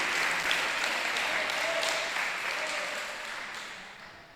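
Church congregation at a youth congress applauds steadily for several seconds, a dense wash of clapping that gradually fades toward the end.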